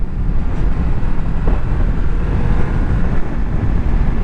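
Strong wind buffets the microphone while riding a Honda VFR800FE touring motorcycle on a grey, overcast day, a loud continuous low roar with no talk.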